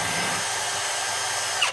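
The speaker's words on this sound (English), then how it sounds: "It does do a lot better if you go full speed with your drill." A power drill spins at full speed in a steady, loud, high-pitched whine, up close, then winds down abruptly at the end.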